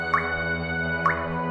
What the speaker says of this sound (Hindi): इस टपकते हुए नल को देखिए।